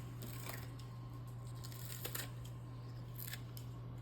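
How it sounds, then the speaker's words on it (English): Kitchen scissors snip washed green onions as a garnish over a breakfast of eggs and cheddar, giving a few quiet, crisp cuts spread across the moment over a steady low hum. "I'm gonna grab some washed green onions and just kind of snip some right on top as a nice little garnish"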